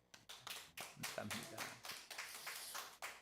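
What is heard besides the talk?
congregation applause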